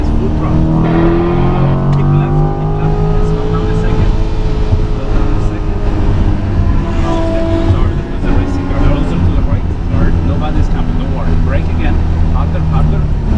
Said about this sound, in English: and now a little bit more of gas, a little bit more, and wider and gas, like this, full throttle